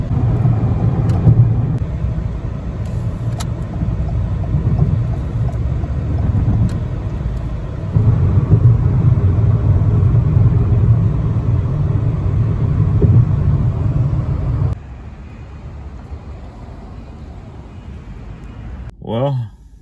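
A car with a CVT transmission driving, giving a steady low engine and road rumble from inside the cabin that drops off near the end, with someone talking over it.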